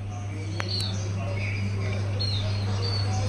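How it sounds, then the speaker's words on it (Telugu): Birds chirp in short high tweets outdoors at a home, faint and scattered over a steady low hum. "పక్షులు"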